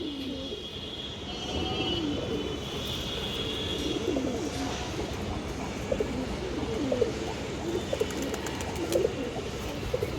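Several green-necked female pigeons coo repeatedly at close range, soft throaty calls overlapping against a steady background murmur, with no talking.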